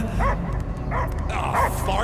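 A dog barks and yips repeatedly in the PS5 video game Marvel's Guardians of the Galaxy, the short sharp calls sitting inside a dense wash of game music and ambience.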